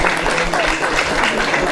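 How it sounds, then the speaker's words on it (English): A crowd claps in steady, dense applause at a darshan gathering at Bhaktivedanta Manor, with some voices mixed into the noise. "Round of applause, please."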